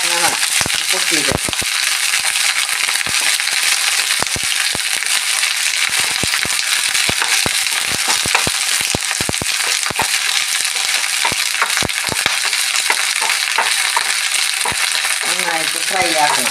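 Curry leaves fry and crackle in a pan, a continuous loud sizzle close by, shot through with sharp pops and spatters from moisture bursting in the hot oil.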